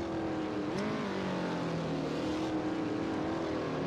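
Race cars lap the Circuit of the Americas road course in a NASCAR Cup Series video game, a sustained engine drone rising and falling in pitch as the cars accelerate, with a faint higher whine over the top.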